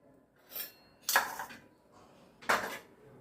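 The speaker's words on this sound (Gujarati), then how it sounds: "આ બધાને આપણે આમ મિક્સ કરી લેવાનું।" A spoon clinks against a bowl while turmeric, asafoetida and chilli powder are mixed for an oil-free mango pickle, three sharp metallic knocks spaced irregularly, close and fairly loud with quiet scraping between.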